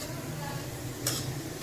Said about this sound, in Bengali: হালকা করে স্টির করব।